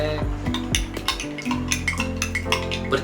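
A spoon clinks and scrapes rhythmically against a cup or bowl while stirring a herbal mixture, close and fairly quiet, with light tapping accents.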